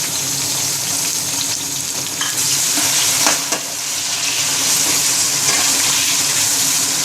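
Chopped tomatoes drop into browned onions frying in a pan for chana pulao, setting off a loud, steady sizzle and crackle that carries on close up without any talking.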